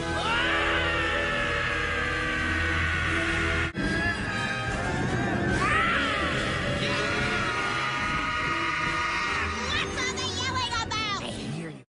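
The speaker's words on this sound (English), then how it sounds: "Takato just starts screaming" An animated character in the Digimon Tamers cartoon screams loudly and almost without pause, a strained, high, sustained shriek that holds for about twelve seconds with a brief break near the middle, over a busy soundtrack.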